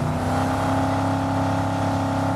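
A car engine in the Cyberpunk 2077 video game revs with a steady, loud mechanical whine and humming gear tones, continuous throughout with no talk.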